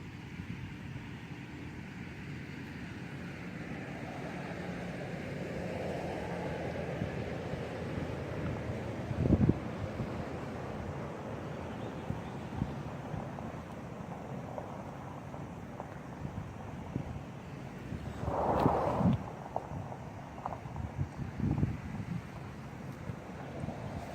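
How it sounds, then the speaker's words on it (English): Steady wind buffets the microphone outdoors at sunrise, a broad low rumble throughout, with a few brief louder thumps and knocks standing out. "Now I got a little bit of wind."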